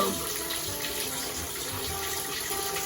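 Tap water runs steadily into a bath being filled to test a homemade Valentine's Day bath bomb, a continuous close rushing stream that holds at an even level throughout, with no talking.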